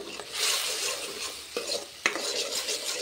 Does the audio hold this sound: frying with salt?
yes